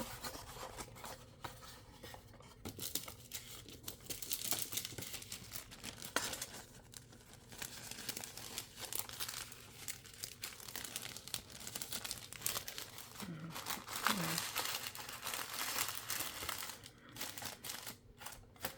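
Cellophane and tissue paper crinkle and rustle while a hand-knotted gemstone rosary making kit is unboxed, a close, steady stream of soft crackling and rubbing with a few sharper crinkles, no voices.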